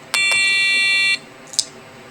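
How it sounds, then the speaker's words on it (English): A buzzer on a makeshift factory assembly circuit sounds one steady electronic tone for about a second, followed by a brief faint click or beep, close and clear with no talk. "the buzzer goes off again"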